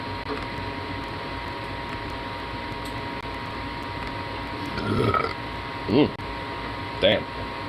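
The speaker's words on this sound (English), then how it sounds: "That right there was quite a burp." A loud, low burp rumbles out near 6 s, with smaller belch-like bursts around 5 and 7 s, over a steady hum of room noise; someone talks between them.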